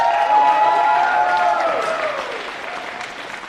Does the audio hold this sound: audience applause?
yes